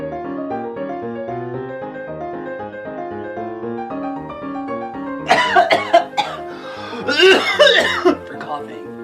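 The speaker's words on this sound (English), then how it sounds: "after a good, solid coughing fit" A harsh, rasping coughing fit in two loud bursts, close by, following a stretch of steady droning music.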